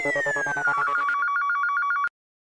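An office phone rings in a short series of repeated electronic ring bursts, loud and close, alone without talk, then stops abruptly.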